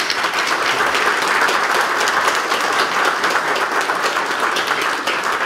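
An audience applauds the mayor at a tribute show in Iasi, a dense, steady round of clapping that fills the whole stretch without talk.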